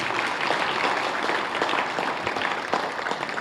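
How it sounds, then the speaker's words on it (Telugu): A theatre audience claps for an actress after a stage play, a steady, fairly loud patter of many hands continuing for several seconds with no speech over it. "ఆద్యంతము కూడా అద్భుతంగా రక్తి కట్టించినటువంటి లలిత గారికి మోగించండి చప్పట్లు."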